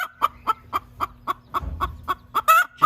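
A hen named Princess Consuela, just after laying eggs in a coop during a blizzard, clucks in a loud, close, steady rhythm of about a dozen evenly spaced calls, ending in a longer squawk.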